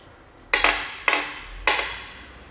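An object strikes a granite kitchen sink three times in a sound test, each hit a sharp, loud, ringing knock that decays quickly, spaced about half a second apart with nothing else heard.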